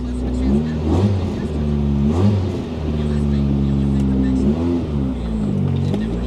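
Chevrolet square body truck engine idling steadily nearby, with its pitch briefly rising and falling on light throttle blips as someone talks over it.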